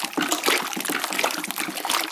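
Water being poured into pottery glaze in a workshop, a steady close trickle and splash with a continuous liquid wash running throughout and no talking.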